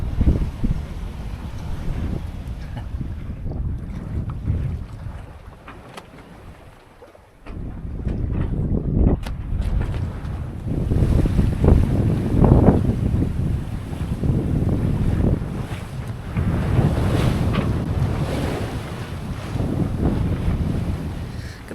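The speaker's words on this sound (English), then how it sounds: "Another day on the ocean." Open Pacific Ocean waves and gusting wind roar around a 33-foot sailboat at sea, with heavy microphone buffeting, surging water swells and a brief lull before the rush returns.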